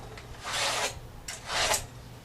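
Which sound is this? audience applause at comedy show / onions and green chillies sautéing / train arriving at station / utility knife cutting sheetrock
utility knife cutting sheetrock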